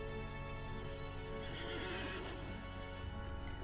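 A horse whinnies in the fantasy video game Lord of the Rings Online, a long, loud neigh over a steady droning game soundscape with faint hoof clip-clop.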